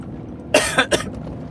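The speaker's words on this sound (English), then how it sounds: "If I cough, sniffle, or sneeze, please forgive me." Two or three sharp coughs from a nearby adult male, coming in a quick burst after a quiet pause, loud against a faint room background.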